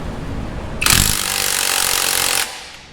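Air impact gun loosening a nut on a shock absorber while springs are installed on a Dodge Challenger or Charger: one loud, close burst of rapid hammering rattle lasting about a second and a half, alone.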